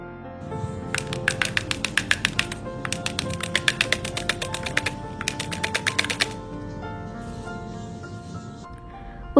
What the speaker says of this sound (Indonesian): Ketuk-ketukan kue keringnya perlahan supaya topping coklatnya lebih rapi dan rata.